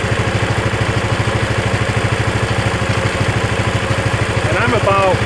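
Ariens Power Brush 36 snow blower engine running at low idle, a steady, even low chug with a regular pulsing rhythm heard close up, continuous throughout with a brief higher whine near the end.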